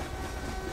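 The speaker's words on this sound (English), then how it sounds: "It's just a stupid train." A passing train in the horror video game Summer of 58, heard as a short, steady rumble of rolling rail cars at moderate loudness, with no voices.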